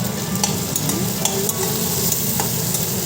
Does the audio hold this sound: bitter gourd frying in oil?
yes